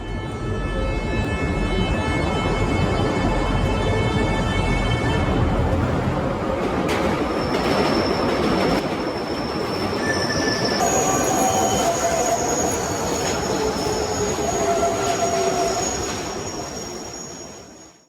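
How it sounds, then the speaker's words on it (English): Interior of a train from Melbourne to Geelong: a loud, continuous rumble of wheels on rails, with sustained high squealing tones and shifting whines throughout, then a trailing off at the end. "Now heading on to the train from Melbourne to Geelong."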